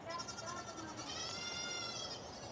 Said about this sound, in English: Now the goats are going nuts.